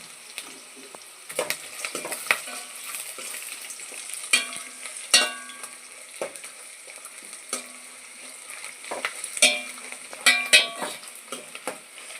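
Curry leaves, chana dal and urad dal fry in hot oil for Andhra-style lemon rice, with a soft crackling sizzle broken by repeated metallic spoon clinks and scrapes against the pan, close and without speech.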